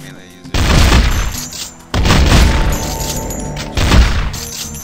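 Shotgun fire in the pixel-style zombie game Infectonator: Survivors lands as three loud, close blasts about a second and a half apart, each with a booming rattling tail.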